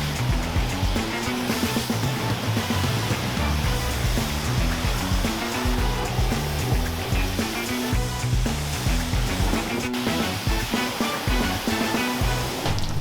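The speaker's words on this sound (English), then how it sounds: "you wanna rinse it with cold water" A steady, loud rush of cold water spraying over a Jeep Wrangler LJ, continuous and close, with a broad hiss like a hose running over a surface.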